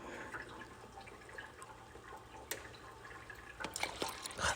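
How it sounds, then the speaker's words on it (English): Milk poured into a car engine in place of oil, a faint gurgling trickle at some distance with soft clinks and handling noise. "I'm pouring milk into an engine."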